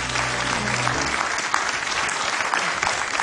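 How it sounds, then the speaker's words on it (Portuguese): A studio audience claps for guests on a television show, a steady burst of applause close and full throughout. "eu peço já um grande aplauso para os três convidados"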